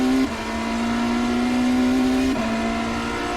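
A BMW M Hybrid V8 LMDh race car in iRacing at Sebring accelerates hard out of a corner, its engine note holding a steady, loud pitch that climbs and then drops once at a gear change. No voices are heard.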